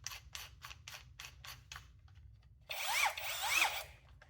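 A Makita DDF487 cordless drill, fresh from the box, gives a string of short trigger bursts close up, then a longer whirring run with rising and falling motor pitch, all fairly quiet.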